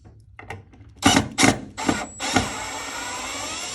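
A power screwdriver run in reverse backs a screw out of a window sash balance, giving several short whirring bursts followed by a longer steady whine, close and clear with no talking.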